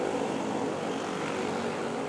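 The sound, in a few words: Bell helicopter flying near Manila airport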